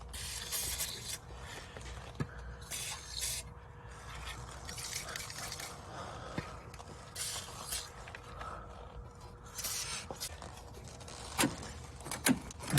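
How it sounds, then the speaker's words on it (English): Short hissing bursts of WD-40 spray onto the throttle linkages of a Mercedes W116 280SE that sat seven years in the desert, several separate blasts with quiet handling and scraping noises between them. "We're gonna spray some WD-40 on all these linkages."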